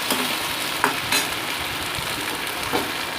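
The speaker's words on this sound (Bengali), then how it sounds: "এবার আমি দিয়ে দিচ্ছি এখানে সর্ষে পেঁয়াজ পেস্টটা। ভালো মতো আমি কষিয়ে নিচ্ছি।" Mustard-onion paste is sautéed in a pan, making a dense, loud, continuous sizzle with occasional spatula scrapes and taps, heard close up without any voices.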